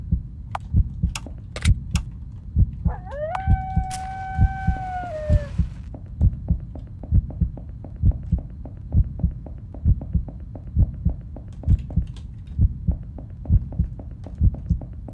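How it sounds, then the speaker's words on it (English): A heartbeat thumps steadily and keeps quickening in the horror game Enigma, with a brief rising and falling tonal wail near the start and faint clicks, no voices. "Why is the heartbeat going faster?"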